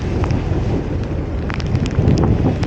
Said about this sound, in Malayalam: അങ്ങനെ നല്ല മഴയാട്ടോ ഇപ്പൊ.